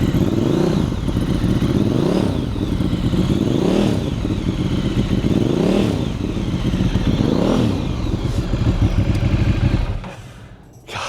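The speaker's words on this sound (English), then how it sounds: "So the stock Bimota exhaust on this is an Aero system." A Bimota Tesi 3D motorcycle's V-twin engine runs through its stock exhaust. It revs up and down repeatedly in loud, close swells for about ten seconds, then cuts off abruptly.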